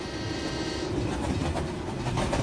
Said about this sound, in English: Darn train